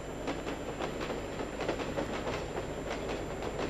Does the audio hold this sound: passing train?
yes